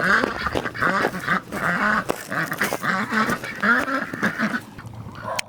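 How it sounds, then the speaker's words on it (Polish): Old Polish ducks quack busily while swimming in a stream on a wild, natural farmstead plot, a dense, continuous run of overlapping nasal calls from several birds close by, with no pauses. "Kaczki jak to kaczki ciągle zajęte, pływają, robią dużo hałasu."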